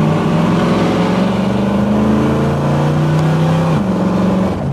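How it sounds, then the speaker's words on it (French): A car engine revs hard while driving through a tunnel, a loud, close, sustained drone whose pitch climbs steadily, drops briefly at a gear change, then rises again, with the tunnel's boom filling the sound. "On peut pas passer sous un tunnel sans mettre un coup de gaz"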